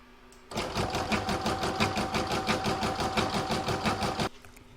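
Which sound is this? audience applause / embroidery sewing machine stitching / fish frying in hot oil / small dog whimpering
embroidery sewing machine stitching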